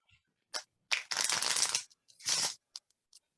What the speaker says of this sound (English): We're just gonna shuffle the deck and we're just gonna shuffle it again.